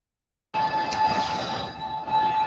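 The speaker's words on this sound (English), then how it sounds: "Hold on, I was trying to get away from this damn train." A train passing close by, a loud steady rumble and rattle of rail cars with a high sustained wheel squeal running through it, starting abruptly and continuing without a pause.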